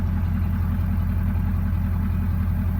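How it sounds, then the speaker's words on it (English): A pickup truck with a 6R140 transmission idles steadily up close, a deep, even low rumble with a regular pulsing throb and no other sounds over it. "Usually do not move this truck unless it has been idling for a few minutes at least."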